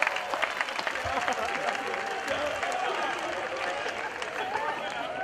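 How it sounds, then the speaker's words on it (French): A festival crowd applauding in a steady, dense wash of clapping, with cheers and voices mixed in throughout, fairly distant and even in loudness. "Applaudissez pour les Ivoiriens s'il vous plaît"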